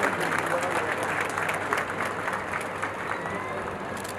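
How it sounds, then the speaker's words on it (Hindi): Loud, sustained applause from a large audience at a government event honouring Babasaheb Ambedkar, a dense wash of clapping that holds steady for several seconds and tapers slightly, with voices mixed in. "जोरदार तालियां साथियों, जोरदार तालियां।"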